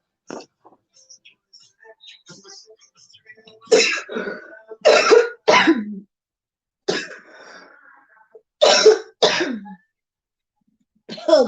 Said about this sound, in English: Oh gosh, he's coughing.